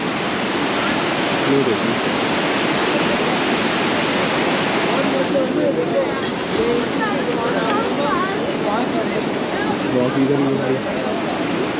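Fast-flowing river water at Manikaran near the gurudwara rushes loudly and steadily, a close, continuous roar. Someone talks over it now and then.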